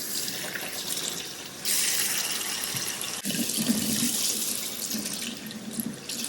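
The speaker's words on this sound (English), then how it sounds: "I just quickly rinsed out the bucket I was using and then refilled it with water again" Tap water gushing into a bucket that is being rinsed and refilled at home for fabric dyeing, a steady loud splashing stream that deepens in pitch as the level rises, with no talking.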